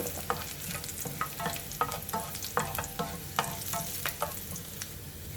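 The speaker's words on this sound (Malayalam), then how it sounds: "ലോ ഫ്ലെയിമിൽ വെച്ച് നമ്മളുടെ ഉള്ളിയും കറിവേപ്പിലേക്ക് ഒന്ന് മൂത്ത് കഴിയുമ്പോൾ" Onion and curry leaves frying over a low flame for a Kerala cucumber and raw mango curry, a steady soft sizzle broken by regular scraping stirs of a spoon in the pan, close and alone.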